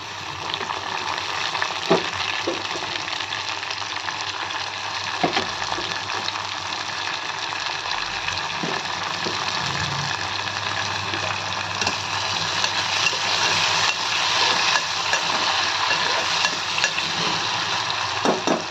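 Onions and other ingredients frying in a pan for an Indian-style brinjal (vankaya) curry, giving a loud, continuous close sizzle with occasional utensil scrapes and clinks throughout.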